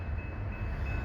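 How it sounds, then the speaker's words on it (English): An intermodal double-stack freight train passes on a single-track main line, giving a steady low rumble and rolling roar at a moderate distance. No voices are heard over it. "And this is the stack train out of Fremont here."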